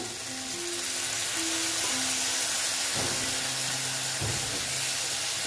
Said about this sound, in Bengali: দেখো বাটিটা ধুয়ে একটু জল দিয়ে দিলাম।